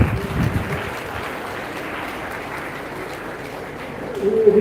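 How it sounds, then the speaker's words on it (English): Moderate applause from an audience at a school awards and prize distribution ceremony in New Delhi, a steady, somewhat distant patter of clapping that swells slightly at the end. "Please give them a round of applause."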